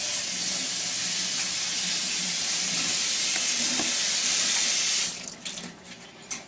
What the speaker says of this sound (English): with the wet one, you just need to come to the sink and wet it down.